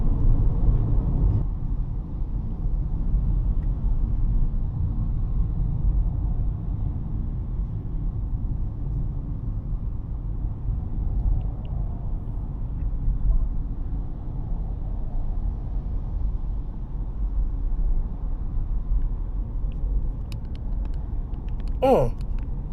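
Steady low rumble of road and tyre noise inside a 2026 BYD Atto 2 DM-i plug-in hybrid with a 1.5L petrol engine and CVT, heard while driving, continuous and even with no talk.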